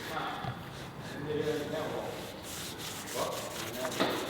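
Rubbing to clean a brake disc on a replica AMG GT build, a close, continuous scrubbing and grinding sound, with someone talking briefly over it.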